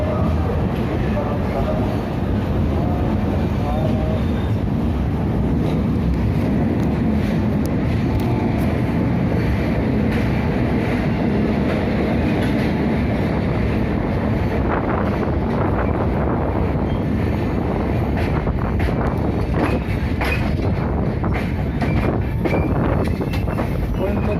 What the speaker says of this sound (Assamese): ট্ৰেইন এতিয়া টাৰ্ণিং লৈছে এটা ডাঙৰ টাৰ্ণিং হয়